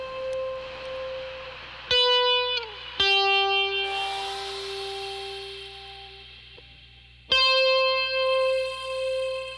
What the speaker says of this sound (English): I want to try out these reverb settings.